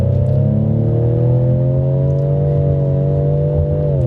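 A 2019 Ford Edge ST with all-wheel drive holds its engine revs in a loud, sustained, smooth note that climbs gently and stays steady throughout, with no talking.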